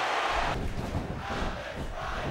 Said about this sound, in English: And now this crowd is solidly behind Alex Riley, who just got ready.